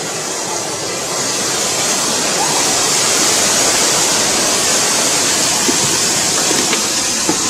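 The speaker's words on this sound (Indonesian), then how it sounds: "Ya, inilah dia air terjun" A steady, loud rush of falling water at Jagir waterfall in Banyuwangi, East Java, fills the scene, a broad constant roar with no pauses.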